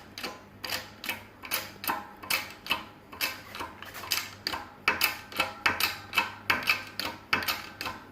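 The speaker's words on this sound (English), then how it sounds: "Now what it's doing is it's just basically that socket's cutting the bushing away" A socket pressed into a vulcanized rubber bushing during front-end assembly on a 2005 Ram gives a steady run of sharp, evenly spaced clicks or ticks, close and moderately loud, about two per second, with no talking.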